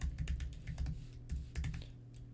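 Someone types on a computer keyboard in short bursts, with brief pauses between the clusters of close, crisp keystrokes.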